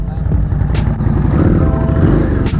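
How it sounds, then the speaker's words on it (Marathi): A motorcycle engine runs steadily right after being started, a loud continuous low rumble close by with a slight rise near the end. "फायनली झाली बाईक चालू"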